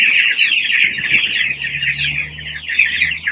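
Farm chickens chirping, a dense close chorus of many high peeping calls overlapping continuously, loud and without pause.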